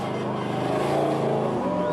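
An extreme rock racing machine, the number 66 vehicle, on the throttle at Moab, Utah, gives a loud, steady engine roar with a rough, pulsing drone that holds close and continuous for the whole moment.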